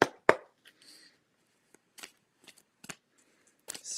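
Playing cards being shuffled: a sharp riffle burst near the start, then scattered soft flicks and snaps at irregular intervals, close and fairly quiet with gaps of near silence.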